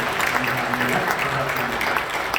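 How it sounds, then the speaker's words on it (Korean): A church congregation at an early-morning prayer service claps to welcome visitors. The steady, dense applause fills the room, with a murmur of voices underneath. "이 기관에 오신 분들 박수로 환영합니다"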